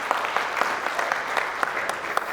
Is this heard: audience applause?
yes